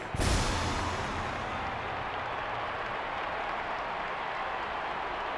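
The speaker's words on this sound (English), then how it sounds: "do please give a sporting cheer for our Boston Ruffians" A stadium crowd at a 1920 baseball game between the Boston Ruffians and the New York Haberdashers bursts into cheering and applause, loud at first, then a sustained broad roar without a break.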